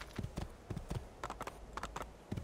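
Horse hooves from the video game Assassin's Creed II, a quick series of crisp clip-clop steps in uneven pairs, fairly close and clear with no talking.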